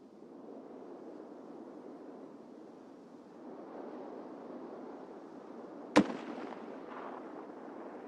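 A single sharp grenade blast cracks out once over a steady low rumble of battlefield ambience in the shooter game Escape From Tarkov 1.0, close and brief.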